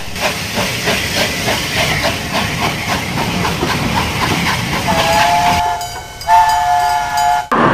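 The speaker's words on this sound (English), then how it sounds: "We're on the train" A train in China rumbles along with a loud steady hiss of steam, and a whistle sounds near the end.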